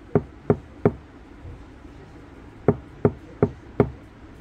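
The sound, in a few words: knocking on car door trim with sound-deadening mats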